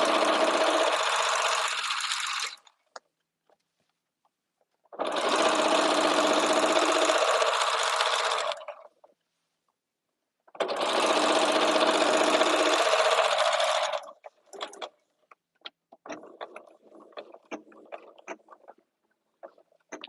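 A sewing machine runs in three long bursts of stitching on blankets, with pauses between, then lighter handling and rustling sounds toward the end; no one speaks.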